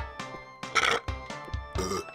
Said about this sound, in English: Gotta burp every two fucking seconds.